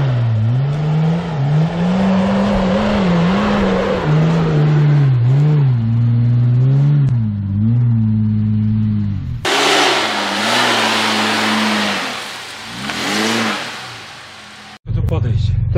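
An off-road 4x4, either a Suzuki Vitara V6 or a Nissan Patrol V8, revs hard as it climbs an obstacle, the engine rising and falling nearby, with outdoor noise and people talking in the background.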